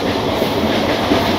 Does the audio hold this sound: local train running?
yes